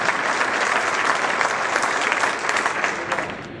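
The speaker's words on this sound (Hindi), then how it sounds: "जोरदार तालियों से खुदा के नाम से" A congregation at a church service claps loudly and steadily, a dense, sustained wash of hands that holds for several seconds and eases slightly at the end, with no speech over it.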